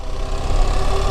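A 2024 BMW 1300GS motorcycle engine runs after starting, giving a loud close steady low rumble with a faint pulsing throb over about a second.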